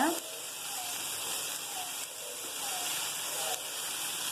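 Paneer fried rice simmering lightly in a pan gives a soft, steady hiss and faint sizzle, continuous and quiet throughout, with a voice speaking over it.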